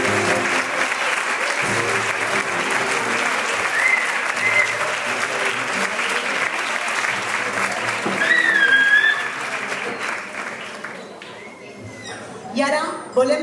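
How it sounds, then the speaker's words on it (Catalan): Sustained warm applause from a large crowd at a falla proclamation ceremony, steady and dense for most of the stretch with a few whistles, fading toward the end. "rebeu des d'ací el calorós aplaudiment que us"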